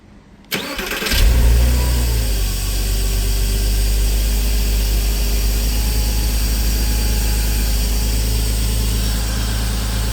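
A Porsche 986 Boxster engine cranks briefly and catches, jumping to a loud, steady idle that holds close and unbroken for the rest of the clip.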